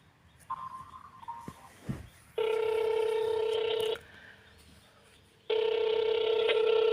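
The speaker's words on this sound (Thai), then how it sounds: "ติดต่อเจ้าหน้าที่ค่ะ กดศูนย์" A telephone keypad sends the zero tone to reach an operator: two long, loud steady beeps separated by a short pause, following a few faint, brief tones and some low background noise.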